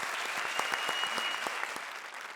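Audience applause at a televised comedy show, with a dense, even burst of clapping from a crowd that fades slightly toward the end.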